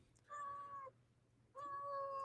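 A cat meows twice, two clear, drawn-out calls separated by a short pause, close by over a low steady hum.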